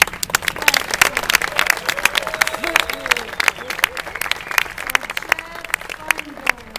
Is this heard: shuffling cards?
no